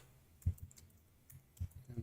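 Keystrokes on a computer keyboard during live coding of a DNN module, a few quiet scattered clicks in two small bursts with gaps between, faint and close, no talking.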